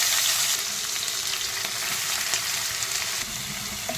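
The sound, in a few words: onion and whole spices frying in hot oil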